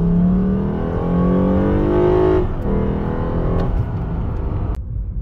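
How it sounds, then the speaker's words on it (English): A Lexus IS350 fitted with a cold air intake accelerates hard at highway speed, its engine note climbing steadily under heavy road and wind roar before easing off. "So you can intentionally make the noise so you can hear the cold air intake. It's just on how you step on it."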